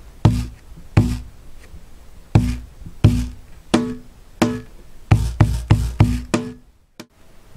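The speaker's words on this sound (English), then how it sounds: "the buzz or rattle sounds you hear are gated or abrupt, so you don't hear any lingering after buzz." Cajon with a gated snare buzz, struck in a series of sharp, fairly close hits, some spaced and some in quick clusters, each rattle cut off abruptly with no lingering tail.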